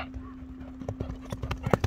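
A horse's hooves clip-clop in a quick galloping rhythm, the hoofbeats growing louder and closer toward the end over faint background noise.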